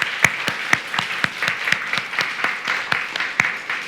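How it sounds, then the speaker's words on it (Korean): A congregation at a church worship service applauds in a steady, even rhythm of claps, sustained throughout at moderate volume. "우리 한번 박수로 축복하겠습니다"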